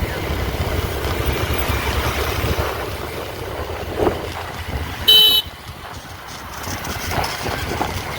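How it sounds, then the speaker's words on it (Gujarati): A single short horn toot cuts through steady road and engine rumble, brief and fairly loud. "અહીંયા હોર્ન વગાડવો જરૂરી હોય છે"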